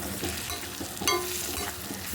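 Onions frying in plenty of oil for egg curry, a soft steady sizzle with a brief scrape of stirring partway through, close but quiet.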